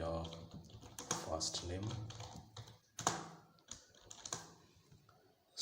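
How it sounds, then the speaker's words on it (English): Typing on a computer keyboard while writing code, irregular clusters of quick clicks and taps at close range, with a person talking intermittently over the keystrokes. "So here I'll type here"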